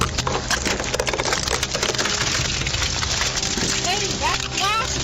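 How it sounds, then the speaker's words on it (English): A car window is smashed during a police traffic stop, giving loud splintering and crunching glass close by, with shouting voices over the breakage. "break the window and take her out"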